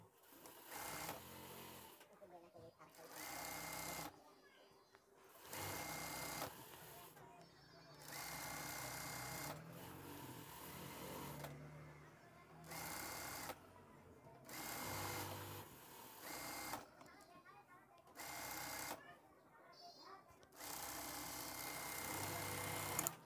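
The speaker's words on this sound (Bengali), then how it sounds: "সেলাইটা ডাবল দিয়ে দিচ্ছি।" Sewing machine stitching a lehenga blouse, running in repeated bursts of a few seconds each with short pauses between, close and steady throughout.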